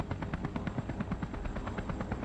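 A hover-engine helicopter craft flies in the Space Engineers video game, giving a steady, loud mechanical drone with rapid rhythmic pulsing like rotor chop throughout, with no talk.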